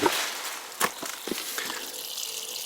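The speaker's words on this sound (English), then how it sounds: "the water is coming out of the pond and down into" Water trickles and splashes as it spills out of a pond and down into a stream, a close, continuous gurgling flow with a few brighter splashes standing out.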